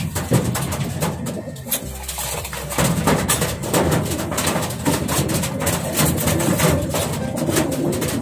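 Racing pigeons coo in a loft, with a soft throaty cooing close by over a busy bed of rustling, fluttering and scattered bird sounds.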